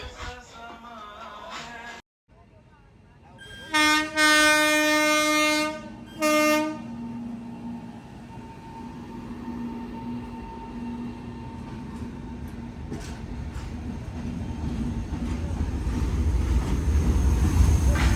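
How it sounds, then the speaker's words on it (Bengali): Trains roll through a railway level crossing from both directions while the gate stays down, with two loud bursts of horn early on, then a rising rumble and clatter of wagons passing close by. "দুটো ট্রেন একদম দুদিক থেকেই আসছে।"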